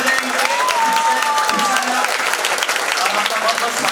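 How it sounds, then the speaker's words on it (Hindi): Enthusiastic applause from the audience at a Holi festival honors ceremony in Sikar, India, dense clapping with crowd noise and voices carrying over it throughout. "बहुत बहुत जोरदार तालियां बजाएंगे"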